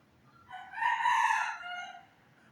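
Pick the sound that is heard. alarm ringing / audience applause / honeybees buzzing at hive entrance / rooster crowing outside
rooster crowing outside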